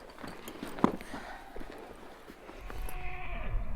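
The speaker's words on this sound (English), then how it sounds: "all 4, are on horseback for this journey" Horses carrying a ranching family on horseback clop along outdoors, their hooves knocking in a loose, uneven rhythm at moderate distance, with a brief neigh and a rising rumble of movement toward the end.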